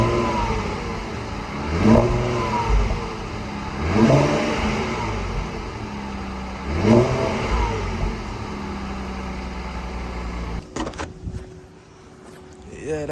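An Infiniti Q50S with a muffler delete revs in three separate blips, each rising and falling over a steady, raspy idle rumble heard up close before the sound cuts off.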